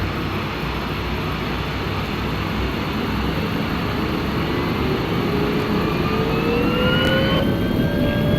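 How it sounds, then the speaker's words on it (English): Steady, loud jet engine roar of a Lufthansa A321 in a flight simulator game, a broad continuous hiss and rumble with slowly rising whine tones as power builds, heard alone without talk. "I'm gonna shut up while I let you guys hear the engines"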